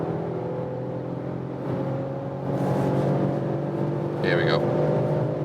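A 2021 Mercedes E-Class All-Terrain wagon pulls away and accelerates, a steady engine drone and road noise building in loudness from inside the cabin, with a short spoken phrase partway through.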